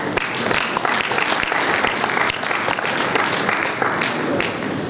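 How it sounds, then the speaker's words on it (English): Sustained audience applause fills a conference hall at an architects' institute annual general meeting, steady and dense throughout with no break, a broad wash of many hands clapping close and loud. "Round of applause."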